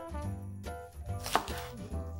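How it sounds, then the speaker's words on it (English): A knife chops green onions on a cutting board, a few sharp cuts landing close under a steady low hum of background music. "Now we're going to move on to chopping the greens, in this case, the green onions."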